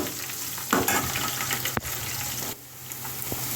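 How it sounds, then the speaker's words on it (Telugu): Two large onions, sliced lengthwise, fry in a pan with a continuous hissing sizzle and a few sharp scraping stirs, close and steady. "ఉల్లిపాయ ముక్కలు వేస్తున్నాం అండి ఏగుతున్నాయి కదండి"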